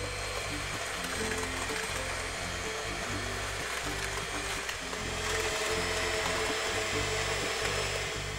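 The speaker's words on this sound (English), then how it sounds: "And for this, I'm going to use the mixer." An electric mixer whisks butter and sugar for pineapple bread with glaze, giving a steady, continuous motor whir with a fluctuating rattle that runs the whole time without any talking.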